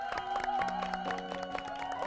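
An audience in a lecture hall applauds to welcome a lecturer, a steady, fairly quiet patter of many hands clapping at once for a couple of seconds.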